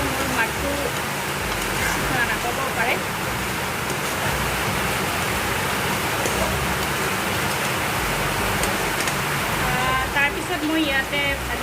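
Steady rain falling close by, a dense, even hiss of drops that holds unbroken for about twelve seconds, with faint voices at times underneath.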